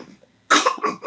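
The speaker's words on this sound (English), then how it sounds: "You have a little cough?" One short, sharp cough from a small child, loud and close, following a moment of near silence.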